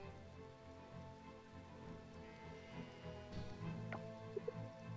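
Steady rain falling in the farming video game Coral Island, a soft even patter with faint game tones beneath and a few brief chimes near the end.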